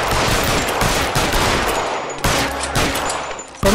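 Gunfire in the video game LA Noire comes as a loud, dense barrage of rapid shots with no break for its whole length, forward and harsh, with one brief dip partway through.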